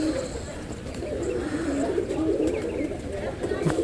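A well-bred pet pigeon coos in a low, steady murmur that runs throughout, close to the listener, with a voice and other faint noises in the background.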